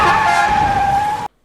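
Car tyres skid with a sharp, sustained squeal that rings steadily for just over a second and then cuts off abruptly, as if a truck has struck the car.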